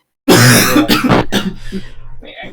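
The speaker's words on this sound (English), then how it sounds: "I think we should address the fact that I have a cough during this whole thing." A close, harsh burst of coughing and throat clearing, loud at first and then trailing off into a few softer rasps.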